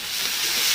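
Water is poured into a hot pan of fried ginger paste and bursts into a loud, broad hiss of steam that swells and holds for a moment, close by.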